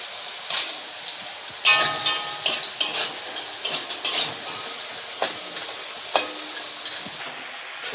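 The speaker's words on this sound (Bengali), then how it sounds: "এবার একটু বড়ি ভাজবো" Bori lentil dumplings fry in oil in a pan, making a continuous sizzle broken by repeated sharp clinks and scrapes of a spatula against the metal, with irregular bursts of louder crackle.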